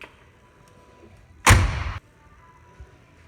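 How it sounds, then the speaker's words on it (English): A 1979 Buick Sport Coupe with a turbo 3.8-litre V6 has its car door shut once, a solid, close thunk with a short rattling tail over a quiet background. "The door shuts great."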